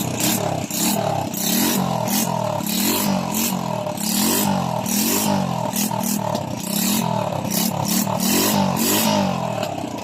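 A Honda Wave 100 motorcycle engine with a faulty primary coil runs loudly up close, its pitch rising and falling in repeated revs with rattling mechanical clatter throughout.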